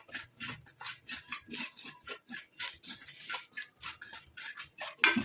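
Spoon scraping and tapping in a pan while amla powder mixture is stirred and fried, a rhythmic series of soft metallic clinks and scrapes repeating about twice a second, close and fairly quiet.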